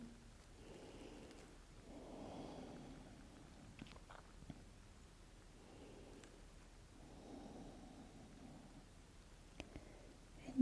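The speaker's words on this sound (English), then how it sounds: "Just take a few deep breaths here." Slow, deep breathing during a calm yoga stretch, with soft airy inhale and exhale swells in about two pairs, faint and close in an otherwise quiet room.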